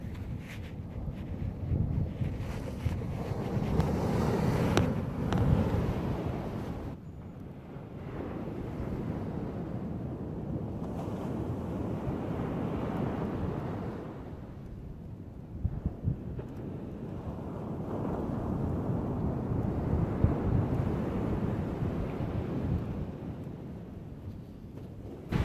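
Ocean surf and gusting wind on a fishing trip, a steady roaring wash with rising and falling swells and buffeting wind noise on the microphone, continuous and fairly loud with no talking.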